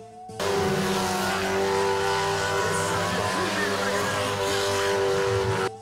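A Citroën 2CV drives close by with a steady, loud engine drone that rises and falls as it revs, holding strong throughout with brief talk underneath.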